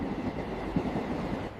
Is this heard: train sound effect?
yes